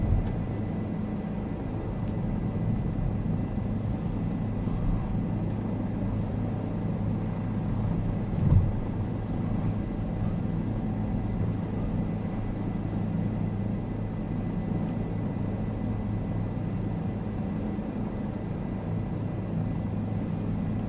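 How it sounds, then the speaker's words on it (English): A steady, low rotor-and-engine drone from a helicopter in flight continues evenly throughout, with one brief thump partway through. "Great helicopter."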